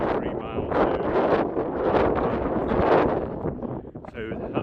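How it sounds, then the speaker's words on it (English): Strong westerly wind gusting at around 40 miles an hour on the slopes of Yewbarrow fell, a steady loud roar buffeting the microphone with rising and falling surges throughout. "Wind gusts 42 miles an hour, a westerly wind coming in at 33 miles an hour."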